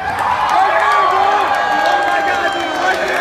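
A crowd at a concert cheers and whoops with scattered clapping, a loud, continuous roar of many voices close around.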